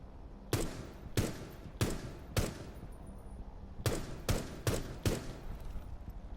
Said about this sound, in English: You can actually shoot through this bag.